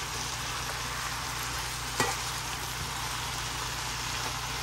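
Potatoes fry in a pan with a steady, rain-like sizzle that holds at an even level, with one sharp clatter partway through and no voices.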